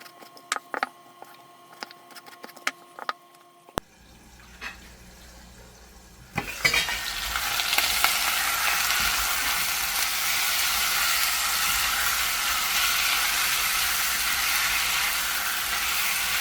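Tortillas frying in oil in a deep soup pot, a steady loud crackling sizzle that starts abruptly after a few quiet seconds of small clinks and handling sounds, then holds on continuously.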